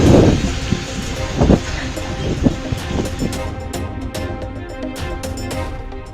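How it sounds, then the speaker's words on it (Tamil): Heavy rumbling of a freight train rolling along, with rhythmic clanks from the wheels over a steady roar and some wind noise. "பாம்பனில் உள்ள புதிய ரயில் பாலத்தில் சரக்கு ரயிலை இயக்கி சோதனை ஓட்டம்."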